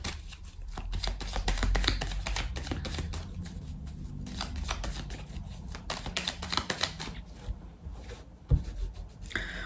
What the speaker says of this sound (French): On va recouvrir certaines cartes.